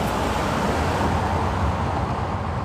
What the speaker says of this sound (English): there's a highway right next to us